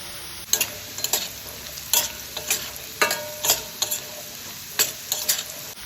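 Raisins frying in a pan for a sago (sabu) khichuri, with about a dozen quick stirring scrapes in uneven bursts over a steady sizzle, close and fairly loud, no voices.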